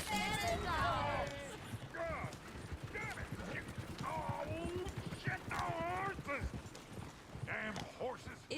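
Horse hooves clip-clop on the ground in the video game Red Dead Redemption 2, a steady rhythmic clatter mixed with harness jingles, heard faintly beneath ongoing dialogue.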